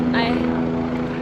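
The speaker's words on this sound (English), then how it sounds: "there's a helicopter like right here" Helicopter flying low overhead in Los Angeles, a steady rotor drone with a strong low hum continuing under a voice nearby.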